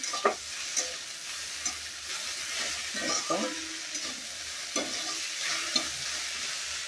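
Okra bhaji frying uncovered in a pan, a moderate steady sizzle with intermittent stirring scrapes and taps, fairly close, with no talk over it.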